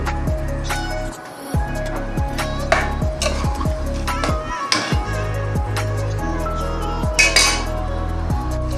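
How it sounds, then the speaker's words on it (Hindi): Masala stir-fried for beef nihari, loud clanking and scraping of a utensil against the pot over a low sizzle, with a steady hum running under the stirring and no speech. "अब हम इसे थोड़ा सा 1 से 2 मिनट इसको बस ढंग से भूनेंगे।"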